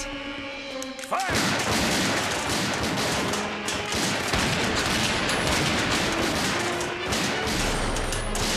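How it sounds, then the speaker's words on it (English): Sustained burst of rapid cartoon gunfire from Batman: The Animated Series after a brief quiet start, dense and loud, continuing for several seconds with crashing impacts mixed in. "that's a lot of gunfire for this show"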